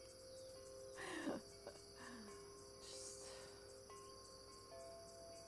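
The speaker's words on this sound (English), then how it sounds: "I don't know if you guys like the cicadas and the chimes in the background there." Faint background ambience of cicadas droning steadily, with thin tonal ringing like wind chimes and occasional soft bird chirps, all distant and quiet.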